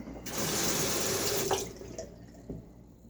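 A razor is rinsed under a running tap during a wet shave with a 1934 Gillette Aristocrat: a steady broadband splash of water for about a second and a half, then the flow stops and leaves faint drips and small clinks.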